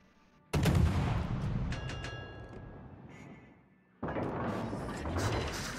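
Video game gunfire sounds as two loud bursts of shots, each sharp onset trailing off into a decaying rumble with metallic ringing between them.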